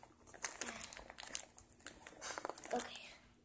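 Plastic packaging is opened by hand with scissors, giving close, irregular crinkling and rustling bursts, with faint talk in the background.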